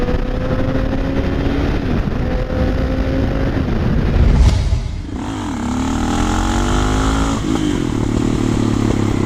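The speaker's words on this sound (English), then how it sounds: "Definitely getting better at the old wheelies." A motorcycle doing wheelies roars close by, its engine note climbing under hard throttle, cutting off sharply, then rising again as it pulls away, with wind rush throughout.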